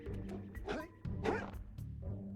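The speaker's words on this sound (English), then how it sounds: "This dog loves his hole so much." A dog in a played online video barks and yips in a few short bursts, faint and slightly distant-sounding, with some whimpery tone between barks.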